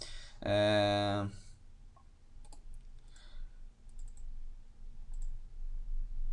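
Faint, sharp computer mouse clicks, including a quick double-click, follow a short loud voiced sound over a low background hum.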